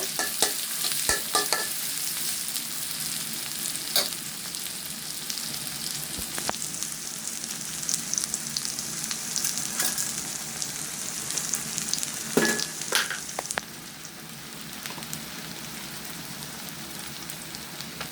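Onions frying in a pan until reddish-brown, a continuous bright sizzle with scattered crackles and occasional stirring scrapes, close and steady for the whole stretch with no talking.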